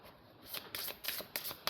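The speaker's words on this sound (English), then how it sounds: "I'm going to do a quick shuffle." Deck of tarot or oracle cards being shuffled by hand: a handful of quick, soft riffling bursts in an uneven rhythm, close and fairly quiet, with no voices.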